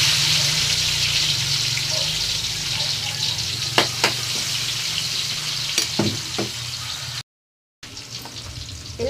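Onions and tomatoes sautéing together in a pan for chicken caldereta, a loud continuous sizzle with a few sharp clatters of stirring, close up, briefly cutting out near the end.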